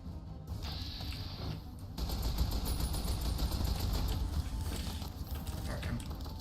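A Fido light machine gun blazes in the video game Fallout: New Vegas, a steady, dense rattle of automatic fire running the whole time under other game noise, fairly quiet overall.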